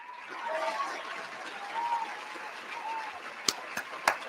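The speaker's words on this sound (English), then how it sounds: "Y'all clap it up for my boy, for real." A burst of applause and clapping during a livestream, moderate and steady with a few sharp louder claps near the end, while someone talks over it.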